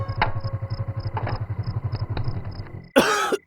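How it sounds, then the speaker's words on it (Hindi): A few short coughs break out over the rhythmic chugging of an idling motor, ending in a louder, harsher cough-like burst. "तुम्हें खांसी है ना?"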